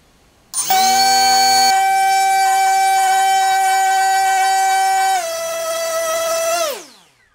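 A SunnySky 2207 2100kv brushless motor on 6S spins a cheap soft prop, a loud steady high whine that starts abruptly, holds, dips slightly in pitch, then spools down to silence.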